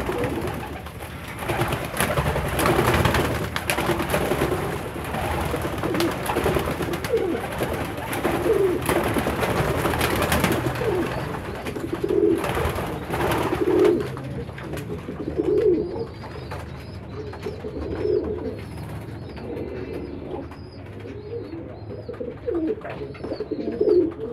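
Homing pigeons coo in low, repeated rolling calls, with a burst of flapping wings and fluttering early on as the birds take off, then steady cooing nearby.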